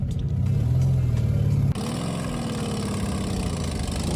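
The air-cooled engine of a 1974 VW Beetle barn find runs close by with its throttle worked by hand, a low, throbbing idle that shifts in tone partway through.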